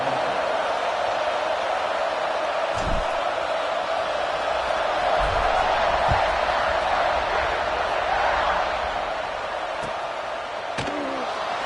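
Steady roar of a stadium crowd at a Madden football video game kickoff, a continuous broad wash of cheering that holds level before easing slightly near the end, with a few faint thumps.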